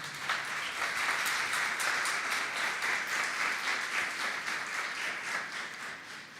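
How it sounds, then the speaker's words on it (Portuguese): A church congregation applauds during a worship service, a steady wash of many hands clapping together at moderate distance, sustained for several seconds and easing slightly toward the end. "Você pode aplaudir o Senhor?"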